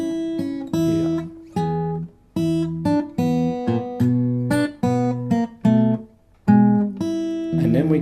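Solo fingerstyle blues guitar plays a short phrase of plucked notes and chords, close and clear, with brief pauses between the groups of notes.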